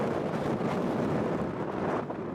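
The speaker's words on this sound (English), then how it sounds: "And as the wind picked up" Strong gusting wind buffeting an outdoor microphone at a Blitzball league game, a dense continuous low rumble and roar filling the whole clip with no other sounds clearly standing out.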